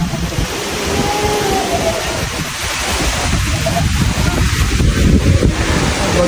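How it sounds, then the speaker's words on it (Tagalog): Rain pelting onto a Suzuki Vitara in Australia, a continuous hiss and patter across the body with wind buffeting the microphone, building slightly louder toward the end, no speech heard. "Ulan na. Ulan na."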